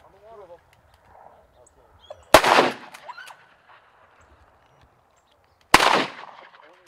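Two loud, sharp shotgun blasts at ducks during a Kansas duck hunt, several seconds apart, each followed by a brief echo, with faint voices and duck calls in between.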